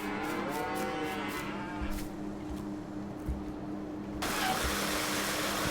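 Cattle mooing on a farm in Farming Simulator 19, several drawn-out, overlapping moos at moderate distance over a steady low engine-like hum, with a rise in broadband noise toward the end.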